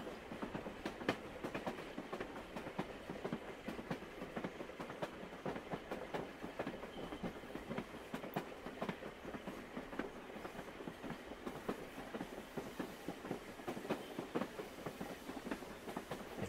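A train rolling along the rails on the approach to Moscow, a steady rumble with faint rhythmic clicking from the wheels, moderately distant and continuous.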